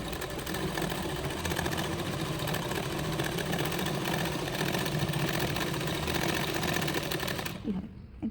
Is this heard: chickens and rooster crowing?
no